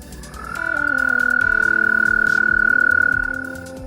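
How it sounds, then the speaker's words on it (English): A chorus of frogs calls together, one strong sustained croaking tone rising in and fading out, layered with lower overlapping calls and rapid pulsing, close and loud with no voices. "The whole chorus of frogs."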